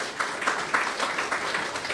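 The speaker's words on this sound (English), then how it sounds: "We'll give you guys a quick round of applause." An audience at Mayor Bowser's innoMAYtion kickoff event gives a quick round of applause, a dense, steady patter of many hands clapping close by for about two seconds.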